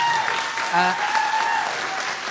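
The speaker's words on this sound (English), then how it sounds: "Could we get one final round of applause for all the people I just mentioned?" Broad, steady applause from an audience at a university journalism awards ceremony fills the room, with a few voices and tones mixed underneath.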